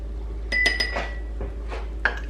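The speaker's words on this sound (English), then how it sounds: "I'll just stir that together." A spoon stirs soy sauce and maple syrup together in a bowl, making a quick run of bright, close clinks against the dish, then a pause and one more clink.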